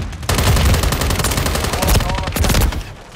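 Rapid automatic gunfire in Call of Duty: Modern Warfare III during a Domination match on the Terminal map, a loud, dense burst of shots lasting about three seconds.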